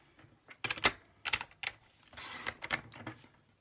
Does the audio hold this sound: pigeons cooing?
no